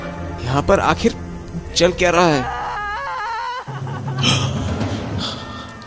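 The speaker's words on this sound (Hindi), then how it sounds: "ये किसकी रोने की आवाज है?" A woman cries and wails in a Hindi horror story, a wavering, drawn-out moaning voice rising and falling in the middle, with people talking before and after it.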